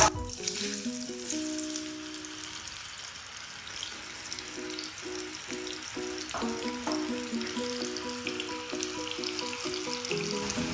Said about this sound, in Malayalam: മീഡിയം ടു ലോ ഫ്ലെയിമിൽ വെച്ചിട്ട് വേണം ഇത് ഫ്രൈ ചെയ്തെടുക്കാൻ